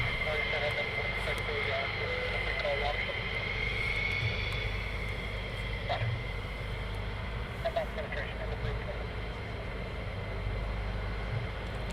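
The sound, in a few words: USAF fighter jets F-16 taxiing off the ramp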